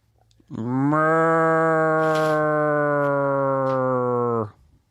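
A person imitates a cow with one long, loud, steady moo held for about four seconds, close and alone, with a sharp start and end.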